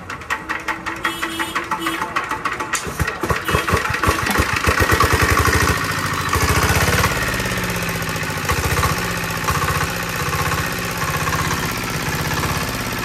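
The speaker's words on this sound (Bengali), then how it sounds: "তো দেখা যাক, ইঞ্জিনটি স্টার্ট দেওয়া হচ্ছে।" A small engine is cranked and starts, chugging with a fast mechanical rhythm before settling into a steady loud running note, with voices talking over it.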